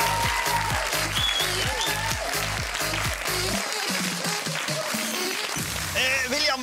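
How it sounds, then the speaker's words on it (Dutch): Studio audience applause in a hidden-camera comedy show, a loud dense wash of clapping mixed with voices and music, continuing throughout. "Uw applaus voor de snode duivel"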